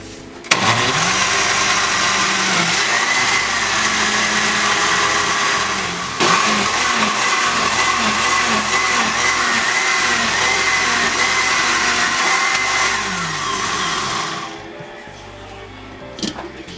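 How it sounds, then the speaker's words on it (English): A blender purees cooked, slightly cooled vegetables for a homemade detox soup: a loud, steady motor whir runs continuously for about fourteen seconds, dips briefly once, then cuts off near the end. "What I'm going to do now is to put it into the blender."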